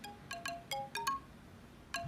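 A telephone ringtone plays in short bursts of bright electronic tones in a repeating pattern, fairly quiet, with no talk over it.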